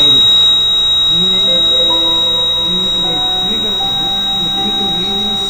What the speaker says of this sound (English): the LEDs turn on and the buzzer is being activated